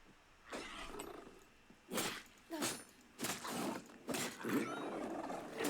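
A hostile dog in Nightingale growling and snarling in several rough bursts, fairly close, with short pauses between the harsh throaty outbursts.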